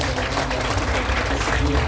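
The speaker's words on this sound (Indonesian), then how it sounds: "Boleh tepuk tangan buat Yesus." A congregation at a church revival service claps steadily in a continuous burst of applause, even in loudness, briefly filling the space.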